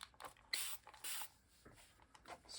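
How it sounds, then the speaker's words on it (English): A spray bottle mists water onto tissue paper, giving several short, faint hissing spritzes with quiet pauses and small handling sounds between them. "I want to try to spray it with water and see if that makes a difference"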